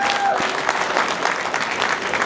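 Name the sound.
wedding guests applauding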